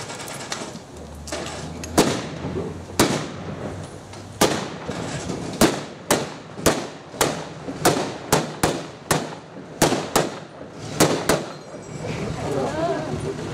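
WWII-era machine gun fired during a Memorial Day reenactment presentation, heard as a series of loud, sharp shots spaced about half a second apart, with occasional quick doubles, over open-air background and crowd noise.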